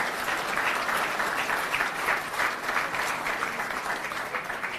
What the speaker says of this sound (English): quick round of applause for those guys